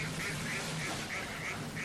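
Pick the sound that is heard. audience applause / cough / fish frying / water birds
water birds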